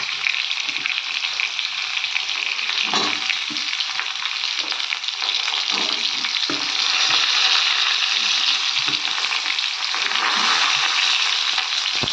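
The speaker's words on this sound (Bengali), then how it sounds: "ভেজে নিচ্ছি তো হালকা ভাজা হয়ে গেছে তো এর মধ্যেই দিয়ে দেবো beans" Potatoes frying in a pan, with a continuous loud sizzle and the occasional scrape of stirring, close and alone with no talking.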